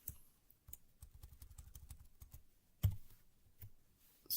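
Code is typed on a computer keyboard in a quick run of soft, close key clicks, then a louder single keystroke and a few scattered taps, faint and without speech.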